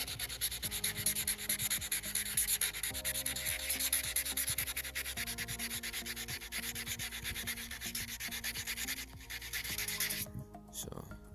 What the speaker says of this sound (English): this is so far just wet sanding with some 400